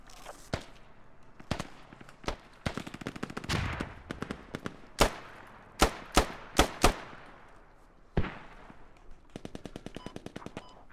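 Bursts of automatic and single-shot gunfire in the military shooter game Squad, loud and close, in rapid clusters with sharp cracks and a steady rattling run near the end.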